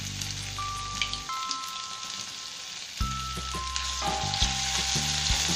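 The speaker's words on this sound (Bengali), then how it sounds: "তেলটা যখন গরম হবে দিয়ে দিতে হবে 1/2 কুচি, আদা কুচি রসুন কুচি" Chopped onion, ginger and garlic sizzle in hot oil, a continuous bright crackle that rises in a loud burst midway, while sustained musical tones play alongside; no one speaks.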